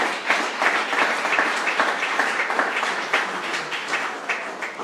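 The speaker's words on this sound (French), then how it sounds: "Applaudissons le Seigneur" A church congregation applauds during a French-language worship service, a steady, dense wash of many hands clapping that stays fairly loud and even for the whole stretch, with no voices standing out.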